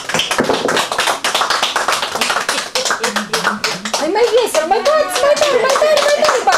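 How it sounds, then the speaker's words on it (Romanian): People clap in a room at a family celebration as a costumed bear arrives, sharp close hand claps in a quick irregular rhythm, with laughter and a voice over the later part. "Să întâmpinăm ursulețul nostru cu aplauze!"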